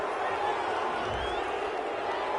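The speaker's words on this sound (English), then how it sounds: "this crowd does not like that call" Stadium crowd in a football video game reacting to a penalty call, a steady dense roar of many voices with no single standout cheer, filling the whole stretch at an even level.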